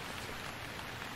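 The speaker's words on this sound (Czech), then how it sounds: "a zase prší" Steady rain falling in a stranded-island survival game, a faint, even hiss of drops with no other sound.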